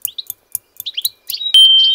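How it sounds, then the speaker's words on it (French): Goldfinch song: a quick run of bright, high twittering chirps and trills, close and clear, ending in a louder sustained buzzy note. "C'est un chardonneret."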